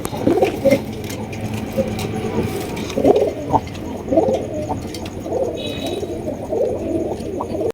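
A pair of big gola pigeons coo repeatedly in low, rolling bursts, close by, with faint background murmur and clatter.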